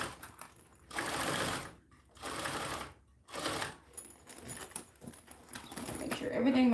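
A sewing machine stitches fabric around the edge of a lined piece in a few bursts of rapid mechanical whirring, separated by short pauses, with a little quiet talk toward the end.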